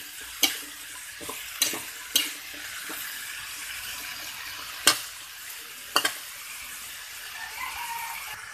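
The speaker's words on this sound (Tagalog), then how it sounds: "Haluin lang natin." Sayote (chayote) vegetables frying in a pan with a low background sizzle, punctuated by several sharp scraping and clinking strokes of a stirring utensil at irregular intervals, close by.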